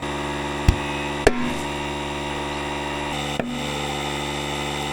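A side-by-side tire bead snaps onto its rim during inflation with about 16 PSI of air, giving two sharp pops and a smaller third crack over a steady hiss of a running compressor or engine.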